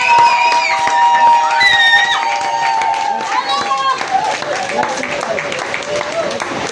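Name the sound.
congregation applauding in church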